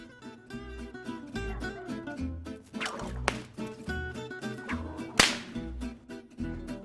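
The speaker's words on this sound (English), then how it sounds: "the actual trick is hit the ruler with the whip, knock it out" A sharp whip crack snaps out over steady rhythmic music, with a second fainter snap earlier; the main crack is loud and close.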